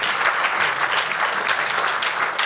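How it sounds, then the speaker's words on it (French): An audience at an awards ceremony claps loudly and continuously, a thick sustained patter of many hands with no pauses. "4 beaux programmes que vous pouvez applaudir."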